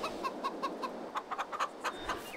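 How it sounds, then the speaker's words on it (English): Chickens cluck in a steady series of short, rhythmic notes at close range, fairly quiet, with no talking. "Here we are back at the chickens with this chicken feed"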